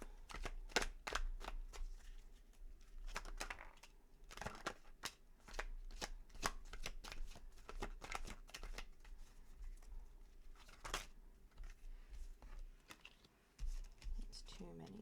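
Tarot cards shuffled by hand in a quick, crisp run of flicking, riffling snaps, close and quiet, with a soft voice talking throughout.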